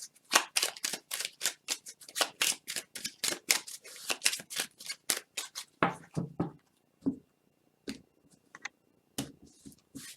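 Small oracle cards being shuffled by hand, a run of crisp rapid flicks and riffles in quick bursts, close and fairly quiet, thinning into a few scattered taps and shuffles toward the end.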